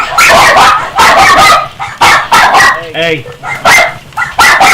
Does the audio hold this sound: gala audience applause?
no